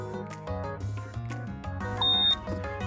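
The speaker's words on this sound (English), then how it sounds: "they should hear a corresponding higher-pitched beep with a head nod" A small robot with a keypad in a math game gives a short high electronic beep, clear and steady, over background music.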